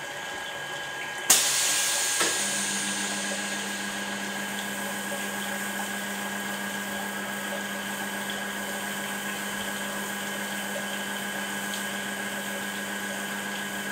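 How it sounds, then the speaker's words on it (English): A 100 kVA Electroweld circumferential seam welder runs on transformer radiators, with a sharp onset followed by a steady, loud electrical hum and a continuous hiss that holds evenly to the end with no voices. "Show you the welding once again."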